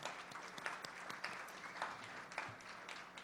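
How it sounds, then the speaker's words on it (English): An audience at a housing nonprofit's 50th-anniversary gala on Long Island applauds. Quiet, distant clapping carries through the room, with scattered louder claps poking out of the steady wash. "So that deserves applause as well."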